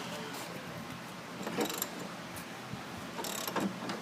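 A ratchet on an 11/16 socket loosens a bolt on the gearbox of a Ditch Witch 7350 trencher, giving rough mechanical clicking with a couple of louder bursts over constant background noise.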